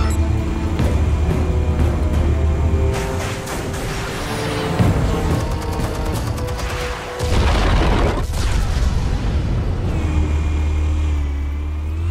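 Explosives detonate in a Batman video game, a loud booming blast with crashing debris and rumbling mechanical noise rolling on for several seconds, sustained and dense.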